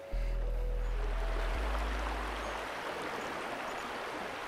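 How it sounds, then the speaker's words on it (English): Stream at the headwaters of the Mississippi River in Itasca State Park, a broad, steady rush of flowing water, with a low rumble fading out during the first seconds. "We now leave you today with nature footage captured at the headwaters of the Mississippi River."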